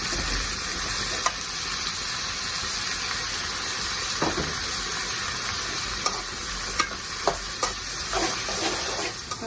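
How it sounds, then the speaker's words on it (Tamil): Onions sautéing in a pan for a home-style Tamil chicken gravy, a constant close sizzle and hiss with occasional scrapes and taps of a stirring spoon against the pan. "வெங்காயம் நல்லா வதங்கிருச்சு"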